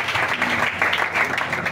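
Applause in acclamation of the Lord rises from a congregation at a French-speaking church service, brisk many-handed clapping that holds steady across the brief moment, with voices faintly mixed underneath.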